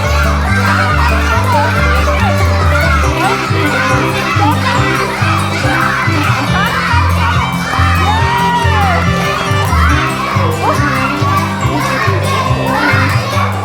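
Children shout and cheer loudly together during a tug of war at a kindergarten contest, a dense and continuous crowd of young voices with rhythmic chanting over a steady musical beat.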